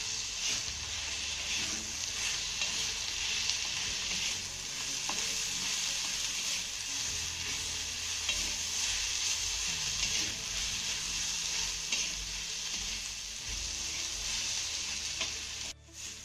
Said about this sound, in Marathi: हा भेंडीचा ठेचा आपल्याला दोन ते तीन मिनिटांना चांगला परतून घ्यायचा आहे